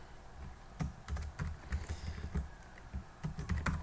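Computer keyboard keys tapped in a quick, uneven series of clicks while entering an Alt+W keyboard shortcut, close and clear with no talking.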